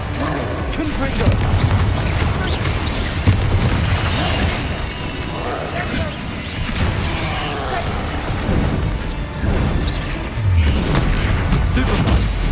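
Confringo fire spell blasts in the Hogwarts Legacy video game on PS5 Pro, loud bursts and rumbling booms recurring through dense, continuous combat effects with a voice-like layer in the mix.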